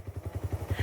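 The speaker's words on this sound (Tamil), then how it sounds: "டேய் சவுண்ட், இது வண்டி ஆஃப் பண்ணுறா" A motorbike engine idles with a steady, low, rapid putter of even pulses for under a second, close by and with no talk.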